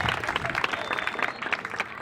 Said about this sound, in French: On applaudit un peu.